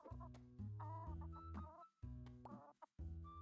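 Video game chickens cluck and squawk in short repeated bursts with a synthetic, tonal quality, loud and close, punctuated by brief silent gaps.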